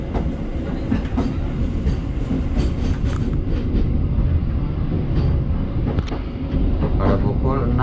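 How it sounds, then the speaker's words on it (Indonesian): A local Cepu–Surabaya train pulls out of Lamongan station in Indonesia, with a loud steady rumble and rattling carriages heard from inside, plus scattered voices and clicks. "Kita sudah diberangkatkan dari stasiun Lamongan."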